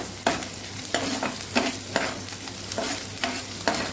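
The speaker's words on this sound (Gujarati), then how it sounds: "ડુંગળીને પહેલાં આપણે સાતડી લેવાની છે" Onions with urad and chana dal sizzling in oil while a spoon stirs them in steady strokes, each scrape rising about every half second over the constant crackle.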